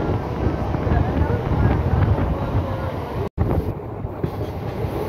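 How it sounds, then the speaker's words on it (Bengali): A local train running at full speed between Sainthia and Tarapith, heard from inside: a dense, continuous roar of wheels and wind with a momentary dropout, no voices. "তো ট্রেন আমাদের সর্বোচ্চ গতি নিয়ে চলেছে সাঁইথিয়ার পর থেকে।"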